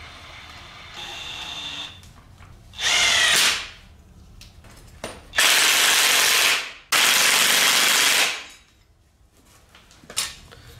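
A power tool tightens the front suspension spring retainers on a Can-Am Outlander 400 ATV, with three loud bursts of buzzing, whirring rotation separated by quieter clinks and handling noises.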